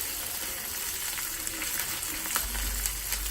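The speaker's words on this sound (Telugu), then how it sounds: "పోపు వేగింది కదా" Tempering spices with asafoetida sizzle and crackle steadily in hot oil for Andhra mango pulihora, a continuous close frying hiss with small pops and no talk.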